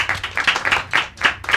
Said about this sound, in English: Can you please give yourself a round of applause?